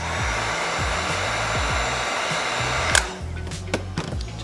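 A heat gun blows a steady, close broadband roar while warming vinyl wrap on a Honda S2000 shifter bezel, then cuts off about three seconds in, leaving faint handling clicks behind.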